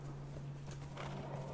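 Horses in Conan Exiles, Isle of Siptah, clip-clop in a quick run of hoofbeats over a steady low hum, fairly faint and without voices.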